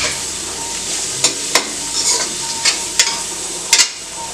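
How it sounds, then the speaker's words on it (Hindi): Chopped carrots stir-fried in a pan, a bright continuous sizzle broken by several sharp spatula scrapes and knocks at uneven intervals, close and fairly loud. "अब हम इसमें डाल देते हैं कटी हुई गाजर। अब हम सबको अच्छे से भून लेंगे।"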